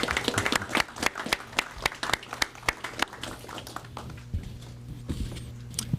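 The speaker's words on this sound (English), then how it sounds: "We can applaud." Applause rises in a city council meeting room: a quiet burst of scattered hand claps that thins into sparse, separate claps over about six seconds, with faint room noise underneath.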